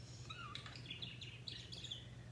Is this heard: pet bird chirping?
yes